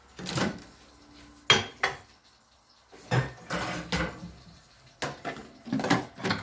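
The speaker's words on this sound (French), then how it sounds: "je vais le mettre au micro-ondes avec une cloche" A few separate clunks and knocks of a covered dish being placed in a microwave and its door being handled close by, with quiet pauses between them.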